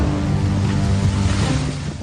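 Rough, rushing sea surf from Cyclone Biparjoy roars steadily and loudly at Mandvi, with high, heavy waves churning and a gusty wind-like rumble throughout.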